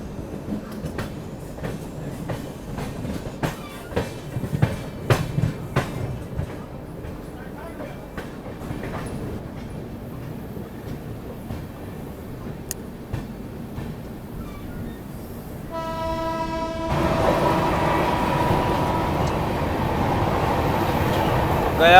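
Bihar Sampark Kranti Express running on the New Delhi to Darbhanga route, with rhythmic wheel clatter and rumble that build into a louder, steadier roar as the train picks up speed, and a faint voice heard early on.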